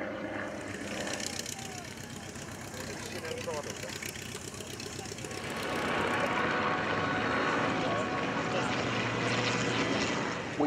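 A vintage racing propeller aircraft sweeps past at the Duxford Flying Legends airshow, its engine drone swelling from a distant hum to a loud, full roar. An announcer keeps speaking over the sound throughout.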